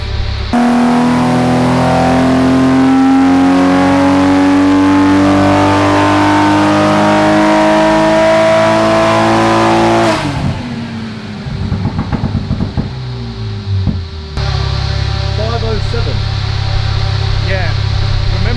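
A Supra engine on a dyno pull with methanol injection revs hard and climbs steadily in pitch for about ten seconds, then drops off, sputters and settles into a rough idle.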